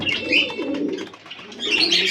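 Pigeons coo inside a pigeon house on an overcast monsoon morning, soft low rolling coos repeating steadily at close range, with some brighter chirps and flutters above them.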